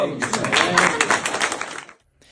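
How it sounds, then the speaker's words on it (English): Round of applause from a small group during a field testing session, dense broadband clapping for about two seconds that fades out abruptly, followed by near silence. "Round of applause for that."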